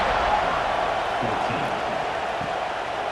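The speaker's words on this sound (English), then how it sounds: "this crowd is buzzing after that last score" Stadium crowd in a college football video game, Tennessee versus Auburn, a steady dense roar of buzzing voices filling the whole moment without a break.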